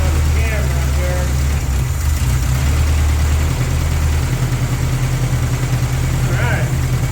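A 1984 Toyota pickup engine idles steadily after a flood revival, a continuous low mechanical hum with a mild rhythmic pulse, close by and loud throughout.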